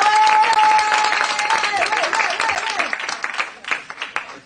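A congregation applauding at a French-speaking church service: dense, steady clapping and cheering that fills the space, with a sustained tone and voices mixed in, thinning into scattered claps toward the end.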